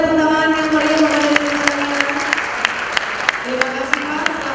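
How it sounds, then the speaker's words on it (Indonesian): Steady applause from a conference audience fills the clip, with a voice speaking over the clapping. "Boleh kita berikan tepuk tangan yang meriah"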